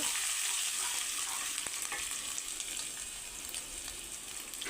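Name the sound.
frying ginger, garlic, kasuri methi and bay leaves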